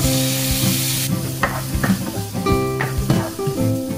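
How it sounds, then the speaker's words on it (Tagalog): Garlic and onion sautéing in butter in a home kitchen pan: a steady sizzle with repeated scrapes and clinks of a utensil stirring against the pan, close and moderately loud, with no talking. "Maglagay tayo ng butter, panggisa ng bawang, at sibuyas."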